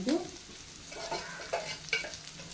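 Siru keerai (amaranth greens) thokku ingredients being sautéed in a pan, with a soft sizzle broken by a few short scraping stirs, close and fairly quiet, with no voices.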